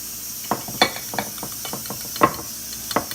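Spoon stirring red beans in a pot for Louisiana-style red beans and rice, a series of soft, irregular scrapes and clinks against the pot over a faint background hiss.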